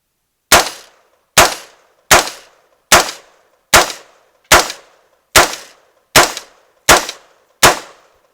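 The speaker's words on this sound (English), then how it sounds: "So let's see how it functions these 10 shots." Ten loud, evenly spaced gunshots from a Bear Creek Arsenal 6.5 Grendel AR-style rifle, each a sharp crack with a brief decaying echo at a steady deliberate pace, with no talking.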